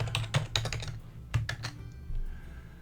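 Keys on a computer keyboard are pressed in a few quick clusters of close, crisp clicks with short pauses between them, no voices heard.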